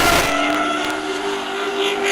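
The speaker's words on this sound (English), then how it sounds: "Here we go, a little burnout by" A 2JZ-powered Lexus IS 300 doing a burnout at a grassroots competition, loud and close, its engine note holding a steady high drone with tire squeal over it.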